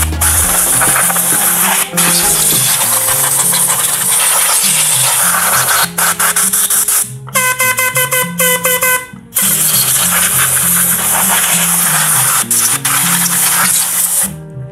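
Cleaner blasts from a bottle sprayer onto a motorbike's CVT, a loud, close, continuous hiss that runs for several seconds, breaks briefly around the middle where a tonal horn-like sound cuts in, then resumes as steadily as before.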